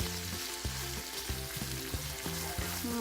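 Corned beef hash with potatoes fries in a pan, a constant sizzle broken by regular scraping strokes of a utensil stirring it, about two per second, with a faint background hum.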